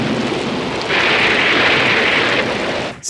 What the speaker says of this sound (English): We're going to have some rain, Pee-wee, and from the looks of those clouds, it's going to be a big storm.